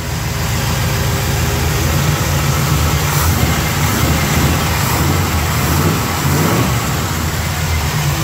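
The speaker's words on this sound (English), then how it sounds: "Engine sounds good." A 1984 Chevy pickup truck engine with an MSD billet distributor running steadily at idle, loud and close, with a constant low rumble and hiss throughout.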